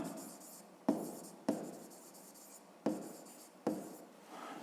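A pen writes in a notebook during a fifth-grade maths lesson, with four distinct bursts of scratchy writing, each starting with a tap and fading, separated by short pauses, close and quiet.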